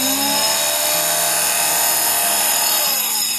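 Electric cloth cutting machine slicing through 20 folded fabric layers, giving a steady, loud high-pitched motor whine with a faint shifting buzz, close and uninterrupted with no talking.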